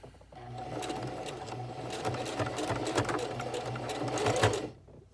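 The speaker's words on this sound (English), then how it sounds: "it usually lets your sewing machine go ahead and get over that bump in the elastic" A sewing machine stitching elastic on a homemade face mask runs steadily with a rapid mechanical whir and stitching rhythm, fairly close, then stops abruptly near the end.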